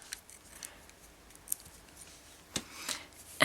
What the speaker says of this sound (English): Now I'm going to cut off this extensive thread